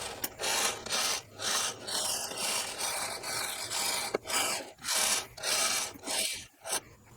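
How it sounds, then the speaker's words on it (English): Cable pulled out of a CFMOTO ATV winch set to free spool gives repeated raspy, scraping pulls in bursts of about half a second each, close and fairly loud, with no talking. "put our winch in free spool and pull out all this cable"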